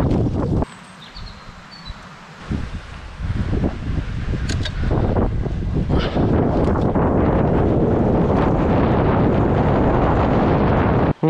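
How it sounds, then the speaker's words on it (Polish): Heavy wind rumble in the ears while riding a freshly serviced bicycle beside a rushing river, a loud, dense roar that swells after a quieter opening and then stays constant and close for the rest of the ride. "tylko szum rzeki i wiatru w uszach"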